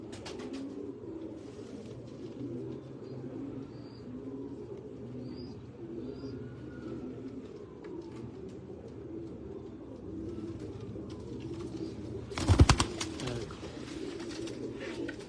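Breeder pigeons coo softly and repeatedly at close range over a low background hum, with a brief sharp clatter near the end.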